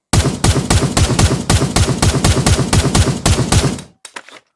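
A semi-auto marksman rifle in Pavlov Shack VR fires a fast, steady string of loud, sharp shots for about four seconds, then a few faint clicks and rattles as the firing stops.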